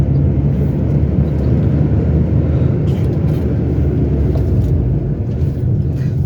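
Car climbing a slight incline in third gear, a steady close engine drone and road rumble inside the cabin, unbroken for several seconds with no talking.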